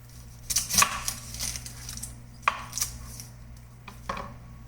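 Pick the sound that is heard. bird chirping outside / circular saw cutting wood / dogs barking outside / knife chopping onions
knife chopping onions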